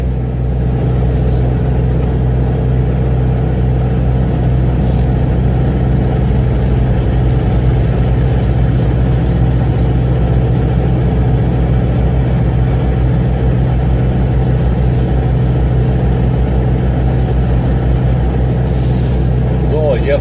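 A MAN TGX 480 truck driving off the Autobahn, its engine producing a loud, steady low rumble that holds evenly from inside the cab, with a few faint higher clicks over the drone.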